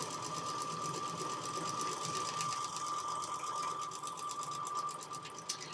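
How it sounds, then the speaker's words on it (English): A sewing machine stitches fabric along a marked line, its needle running in a fast, steady mechanical whir with an even hum that holds for the whole stretch at moderate volume. "now I'm going to sew right on the line between 3 and 4"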